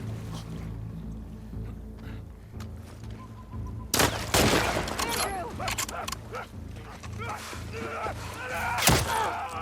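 Gunfire in The Last of Us Part II erupts suddenly partway through, a loud burst of shots and impacts following quieter game ambience, with a second sharp blast near the end and a voice talking over the action.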